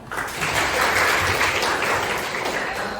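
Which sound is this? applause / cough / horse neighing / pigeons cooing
applause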